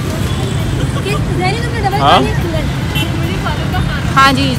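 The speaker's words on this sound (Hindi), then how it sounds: "ऊपर से यहाँ पर काफी ज्यादा ट्रैफिक है जिसकी वजह से शोर आ रहा होगा" Heavy road traffic on a busy street produces a steady low rumble of engines, with crowd babble and people talking close by.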